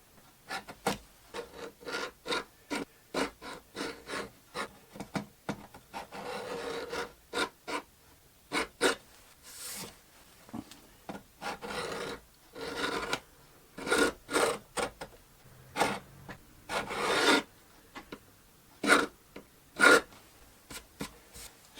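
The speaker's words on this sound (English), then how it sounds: "So as you can see here, I have scribed the line." A line is scribed across two clamped wooden boards, producing a long series of short, dry rubbing and scraping strokes in an irregular rhythm. The strokes are close and fairly quiet, with no talk.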